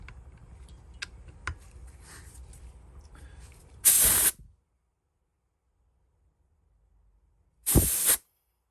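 A sharp burst of compressed air hisses through an Edgun Leshiy 2 airgun regulator for about half a second, followed by silence and a second matching burst, after a stretch of faint ticking and handling noise.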